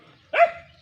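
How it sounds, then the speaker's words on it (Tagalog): A single sharp bark from a fierce dog at a house in the province, fairly loud and close, rising quickly then trailing off. "Tapang naman ang aso nila."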